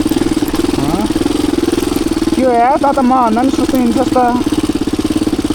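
A motorcycle engine idles with a steady, loud, low throb that runs unbroken throughout, while someone talks over it.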